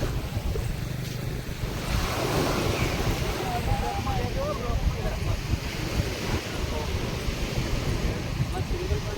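Sea waves at Mandvi beach roll and wash steadily nearby, with gusty wind buffeting the microphone throughout.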